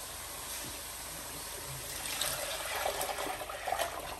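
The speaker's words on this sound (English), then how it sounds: "now I'm going to add the lassi in there." Lassi, a yogurt drink, is poured into a pot for karri pakora, giving a soft, steady trickle of liquid that swells slightly toward the end.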